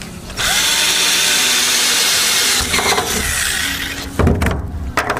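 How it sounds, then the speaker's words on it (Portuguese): A power drill boring into a wooden roof beam, a loud close whine that holds steadily for a few seconds, then stops with a few clunks and rattles. "Vou furar aqui onde eu fiz a marcação, ó."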